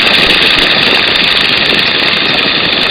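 A light airplane's engine drones steadily in flight with its power pulled back a little, a loud, continuous hum with no break across the few seconds.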